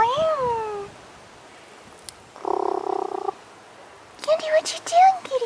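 A house cat meows several times outdoors in cold wind. Its clear, rising and falling cries come near the start and again at the end, with a short buzzing noise in between.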